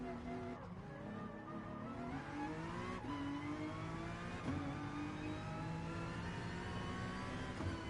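Racing car engine in Gran Turismo Sport revving and rising through gears in steady climbs, each shift dropping the pitch before it builds again, heard under someone speaking.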